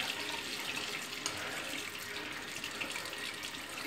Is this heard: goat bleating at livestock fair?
no